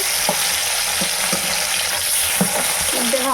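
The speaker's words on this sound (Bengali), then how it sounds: "মাছগুলোকে উল্টে নিচ্ছি" Fish frying in hot oil, a steady bright sizzle and crackle with a few soft scraping taps from a utensil.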